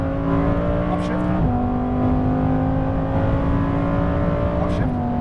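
A Lamborghini Huracan Performante on a racing circuit screams loudly under hard acceleration, its engine note climbing in pitch and then dropping sharply at two quick upshifts.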